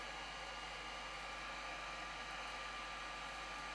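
Hair dryer blowing steadily on foam layers for a foam spiral hat or wig, a constant close whooshing roar with no pauses or voices.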